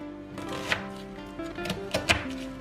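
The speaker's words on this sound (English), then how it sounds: "we'll just chop an onion up and get that ready to add to the beef" A knife chops an onion roughly on a board, several close thunking cuts in an uneven rhythm with a few sharper knocks, while a pot of beef boils quietly in the background.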